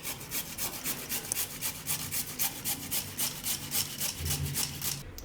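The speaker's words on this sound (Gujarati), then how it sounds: "તો હળદર એ આપણે આમાં છીણી લઈએ." Fresh green turmeric root rubbed on a grater, a close, steady rhythm of rasping scrapes, about three strokes per second, with no talking.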